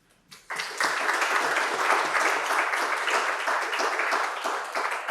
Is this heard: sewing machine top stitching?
no